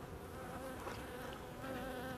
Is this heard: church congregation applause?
no